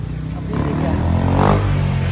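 A motorcycle engine idling and revving under a steady rumble, close and fairly loud, rising slightly in the middle, with people talking nearby.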